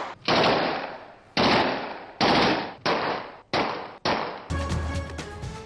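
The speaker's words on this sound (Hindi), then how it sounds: "गुजरपुरा के इलाके में भी हवाई फायरिंग की वीडियो सामने आ गई" Celebratory aerial gunfire in a city neighbourhood, with about six sharp loud shots in an uneven rhythm, each ringing out with a decaying echo, ending in a brief rattling burst.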